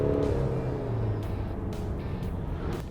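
Steady, loud engine drone from a Mercedes GLC250d 4MATIC's 2.1-litre diesel under acceleration, heard from inside the car with a tone that slowly falls as it holds.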